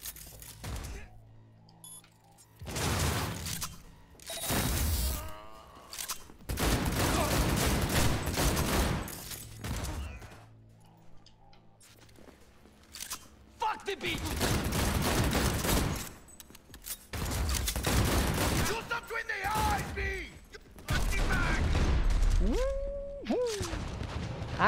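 Gunfire in Cyberpunk 2077: repeated loud bursts of rapid automatic fire and heavy thuds, separated by short quiet gaps, continuing throughout.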